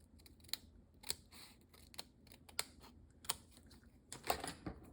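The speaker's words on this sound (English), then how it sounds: "And now I need my yucky scissors to cut a strip" Craft scissors snip a strip of paper in a short series of crisp, close cuts, about six sharp clips spaced unevenly with a quicker cluster near the end, with no talking.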